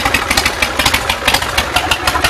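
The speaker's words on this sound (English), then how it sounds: "Starts right up first time every time. Awesome, awesome motorcycle. Runs, idles." A 2005 Bourget Big Daddy motorcycle idles with a loud, close, steady engine note marked by a regular pulsing throb and no voices.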